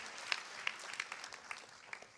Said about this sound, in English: Please, a massive round of applause.